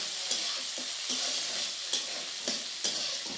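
Onions fry in hot oil in a home kitchen as lunch is cooked, a steady close sizzle with occasional sharp stirring clicks and scrapes, no voices.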